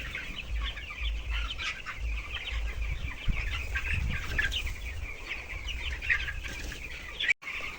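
Twenty-day-old broiler chickens, weighing around 700 grams each, fill a poultry farm shed with a constant dense chorus of clucking and chirping, steady and moderately loud with no one speaking.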